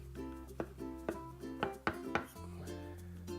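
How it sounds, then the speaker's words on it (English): A knife rough chopping small tomatoes on a cutting board, about seven distinct close taps in an uneven rhythm over a faint background hum. "I'm just gonna rough chop them, cut them in half, and then a couple more slices"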